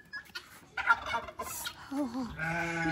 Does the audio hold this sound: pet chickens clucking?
yes